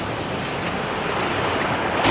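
Sea waves washing onto a quiet, empty shore, a steady broadband surf rush with wind noise, swelling slightly louder near the end, with no voices.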